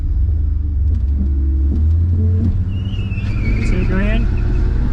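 A car engine fitted with nitrous and methanol injection roars loudly under load with a deep, steady rumble, rising in pitch as it revs, while voices talk over it.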